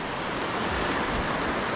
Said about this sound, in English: we are crossing El Dorado Creek